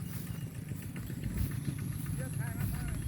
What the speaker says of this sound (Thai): ตาแกมาไถแปลงผักแกปลูกผักเอาไว้บนคันนา